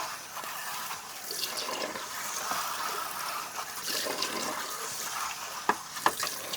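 Running water rinses out a dirty R/C car body, a steady hiss of spray and splashing with a few sharper splashes near the end, moderately loud.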